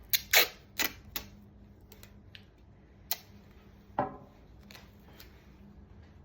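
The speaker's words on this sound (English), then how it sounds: "So now I'm just going to take a piece of tape." A piece of tape pulled and torn off a roll, with a few sharp crackling rips close up at the start, then quieter scattered taps and one short tearing sound, with no talking.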